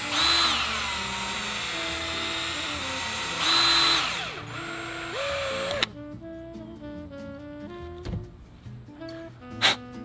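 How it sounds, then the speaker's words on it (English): A hand drill reams out a bolt hole in a Hobie paddle holder in short back-and-forth bursts, with whining runs that rise and fall, pausing between passes, followed by softer clicks and handling noises. "what we want to do is ream this back and forth a little bit just to open up the hole"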